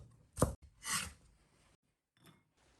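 A knife dices carrots on a cutting board: a few separate, quiet chopping strokes with short pauses between them.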